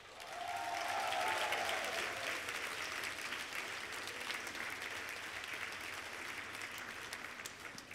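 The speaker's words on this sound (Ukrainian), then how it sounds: "Ваші оплески!" An audience applauds after a young performers' act at a teachers' award ceremony, steady clapping that swells in the first second and holds at an even level, heard at some distance with no speech over it.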